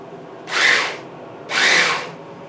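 A Vitesse blender motor whirs in two short, loud pulses, each about half a second long, separated by a brief pause, with no voices.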